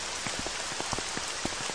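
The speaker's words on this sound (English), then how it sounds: "It's raining." Steady, windy rain patters on a surface nearby, with scattered individual drops tapping distinctly over a soft, continuous hiss.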